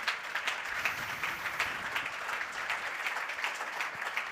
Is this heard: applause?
yes